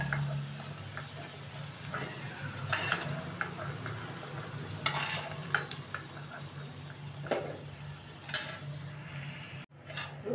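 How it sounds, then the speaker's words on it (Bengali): Potatoes frying in a pan for a curry with gati kochu and prawns, a steady close sizzle with scattered scrapes and stirring clicks, a brief drop near the end. "আলুটা আমি ভালো করে ভেজে নেব।"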